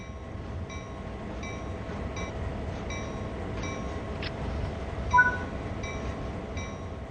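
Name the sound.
locomotive moving in Train Sim World 3 video game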